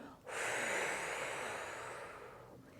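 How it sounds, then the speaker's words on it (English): A single long, deep inhalation during a yoga breathing exercise, close and steady, with a strong airy hiss swelling quickly and then easing off slowly. "Keep on breathing in as much as you can"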